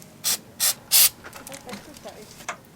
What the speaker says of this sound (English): I'm gonna spray paint it black here